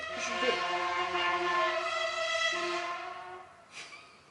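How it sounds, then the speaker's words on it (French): A long, steady vehicle horn blares outside for several seconds, harmonic and fairly loud, then fades out with a short extra blip near the end. "Merci, klaxon de je sais pas quoi."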